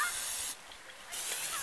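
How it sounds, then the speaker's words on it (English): Non-stick cooking spray hisses from an aerosol can onto the blade and bolts of a power ice auger, close and steady in two bursts with a short quieter gap between them. "spray in between the nuts and the bolts that fasten it down"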